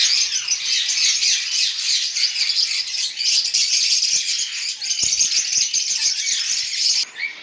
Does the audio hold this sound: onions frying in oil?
no